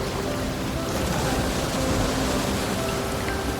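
Steady broadband rushing of ocean surf fills the scene, a continuous wash of waves with no breaks, moderately loud and heard alone.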